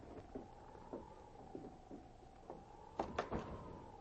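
A door is eased open quietly, with soft creaks and faint knocks followed by a pair of sharper clicks near the end, under a low steady hum.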